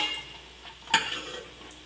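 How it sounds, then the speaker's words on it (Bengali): Bori lentil dumplings fry in about two tablespoons of oil, a steady soft sizzle with one brief sharper crackle or spatula scrape near the middle, close and alone. "বড়ি ভাজতে আমি খুব বেশি আর খুব কমও নয়, 2 টেবিল চামচ মতন তেল দিয়েছি"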